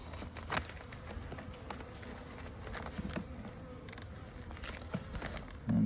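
Honeybees hum steadily around a hive with small spring clusters, a continuous soft buzz with occasional louder passes near the microphone and faint handling bumps.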